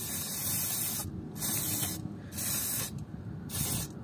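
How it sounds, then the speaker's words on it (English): Cleaner sprays from a can onto the engine area around the tandem pump of a 2.0 TDI PD diesel, four sharp hissing bursts separated by short gaps, close by with no talking. "I'll also clean up this area here with a little bit of cleaner first"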